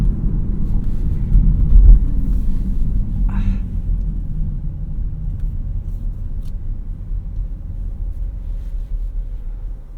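A 2017 Dodge Charger V6 on the road, heard from inside the cabin as a constant low engine and road rumble that stays even throughout.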